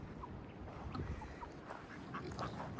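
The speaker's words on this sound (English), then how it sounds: "So there's the 5 ducks right there." Five ducks quacking in short, scattered calls over steady outdoor background noise, moderately close, several birds calling intermittently.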